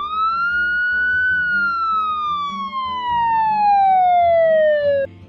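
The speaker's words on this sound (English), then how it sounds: "They put on flashing lights and sirens when there's an emergency." A single police siren wail sweeps upward then falls steadily over about five seconds, loud and close, with lower engine and background tones beneath and no talk.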